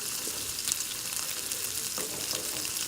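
Tangra fish curry with potato and brinjal being stirred gently in a pan, a dense continuous sizzle with a few soft scraping touches.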